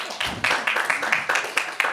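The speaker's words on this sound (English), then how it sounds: "I hope you get a round of applause for that one." Applause in a council meeting chamber from a small group, sparse separate claps in an uneven rhythm, fairly close and clear.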